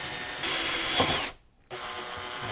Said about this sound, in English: we're going to be using a 5/16 drill bit, and we're going to go very slow and careful through there